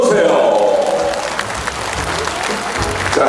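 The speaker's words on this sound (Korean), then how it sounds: "큰 박수로 맞이해주십시오." An audience applauds to welcome a guest entering with family at a book launch event, loud sustained clapping from a large crowd while a host talks over it through a microphone, with scattered cheers mixed in.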